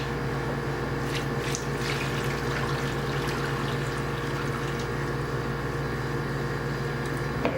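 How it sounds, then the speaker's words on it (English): Water runs steadily into a pan for several seconds, a continuous close splashing and trickling with no talking. "now we put water in here,"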